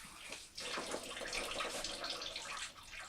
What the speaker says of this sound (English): I'm going to put just a tad of water